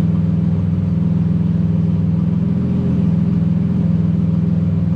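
A race car engine idles steadily during race prep week, a low, continuous rumble with an even pulsing throb that holds close and loud throughout, with no voices over it.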